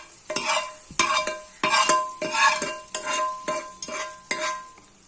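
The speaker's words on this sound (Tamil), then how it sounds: "இப்போ நம்ம இந்த சாம்பாரில் இந்த தாளிப்பை ஊற்றிடலாம்." Hot tempering poured into a pot of wedding-style sambar sizzles sharply, followed by about eight crisp ladle strokes stirring against the pot in a steady rhythm, close and clear, with no talking.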